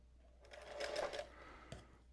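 A Singer Featherweight sewing machine chain stitching a quilt makes a short whirring run of stitches, then a quick mechanical clack as it stops. It is fairly faint and close, with no talking.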